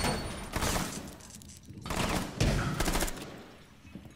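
Several loud bursts of gunfire and crackling blasts in the video game Rainbow Six come in uneven clusters, with muffled thuds between them.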